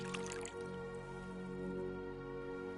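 Wine poured into a cauldron in a video game, heard as soft drips and wet liquid splashes running steadily with no voices, set over a layered musical or ambient bed.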